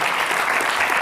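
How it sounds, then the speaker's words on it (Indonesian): A short burst of dense applause from a crowd, steady and fairly loud. "kita berikan tepuk tangan"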